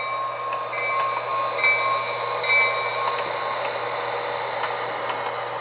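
A small model train rumbles steadily along its track, with faint clicking over the rails and a high mechanical whine.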